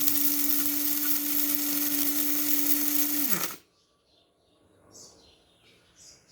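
A portable electric coffee grinder whirs steadily at a high, even pitch for about three seconds, then winds down and cuts off, leaving a quiet room with faint distant bird calls.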